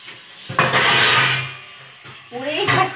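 Dishes and utensils scrubbed by hand while washing up, a close, loud, continuous clatter and scraping that pauses briefly midway, then resumes alongside speech.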